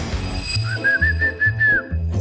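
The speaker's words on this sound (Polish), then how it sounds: "Ty tak gwizdałeś." A single sustained whistled note with a slight wavering pitch, close and clear, over low rumbling noises and muffled movement.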